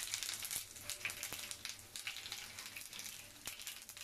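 Mustard seeds and green chillies crackle and sizzle in hot oil for a beetroot uppumavu, a dense, steady frying hiss broken by sharp popping spatters throughout, with no voices.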